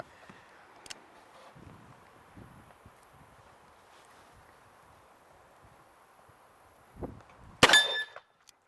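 A single shot from a 1917 .45 revolver fired single action: one sharp, loud report near the end, preceded by a fainter knock, after a long stretch of quiet shuffling and handling.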